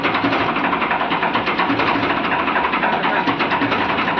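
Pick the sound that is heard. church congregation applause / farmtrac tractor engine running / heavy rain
farmtrac tractor engine running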